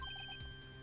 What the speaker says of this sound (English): I heard a phone ring just now. One of those newfangled ringtones.